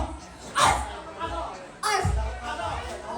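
People at a party game take turns barking like a dog, two loud bursts of imitated barking a second or so apart, with chatter and crowd noise around them.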